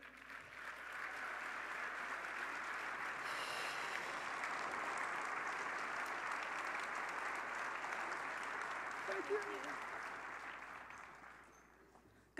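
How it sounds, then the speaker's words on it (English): Applause at an FTC robotics closing ceremony, a broad, steady roar of many hands clapping in a large hall, swelling in and holding for several seconds before tapering away, heard at moderate distance. "So let's give a big round of applause."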